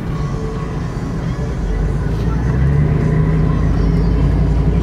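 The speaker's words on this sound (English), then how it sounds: "The exhaust has a good sound. It's not too loud, but it's good." A 1988 Chevy K-5 Blazer's 5.7 V8 exhaust rumbles deep and steady while driving, growing slightly louder midway, with a constant low drone and road noise throughout.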